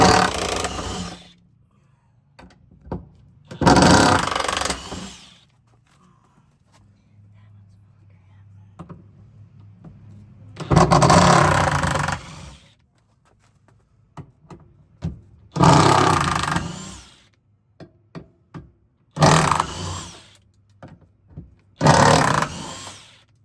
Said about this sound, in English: This is a big impact wrench, like what you would take a tire off with.